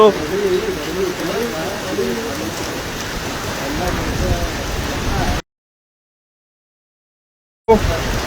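Heavy rain pours steadily in Rupnarayanpur, a dense continuous hiss of drops on surfaces, loud and close, broken by a few seconds of total silence before resuming.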